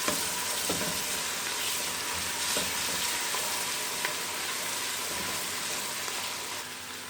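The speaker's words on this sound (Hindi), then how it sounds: "इसको भी फ्राई कर लेंगे।" Garlic ginger paste frying in a pan with onions for a mixed dal, a steady close sizzle with occasional faint stirring clicks.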